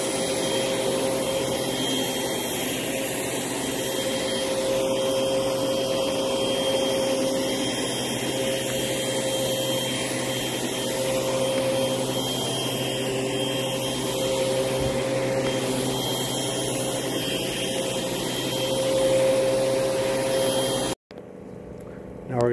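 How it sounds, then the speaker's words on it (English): Vacuum cleaner running over a dirty carpet, a loud continuous whine and roar with slight shifts as it is pushed back and forth, cutting off abruptly near the end. "we're gonna vacuum here in a minute"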